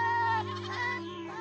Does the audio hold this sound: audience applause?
no